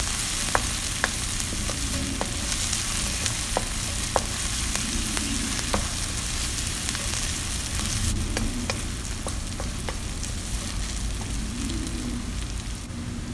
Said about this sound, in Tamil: இப்போ கட் பண்ணி வச்சுருக்கிற பூண்டு போட்டுக்கலாம். இதையும் போட்டு நல்லா ஆயிலையும் வதக்கிடலாம்.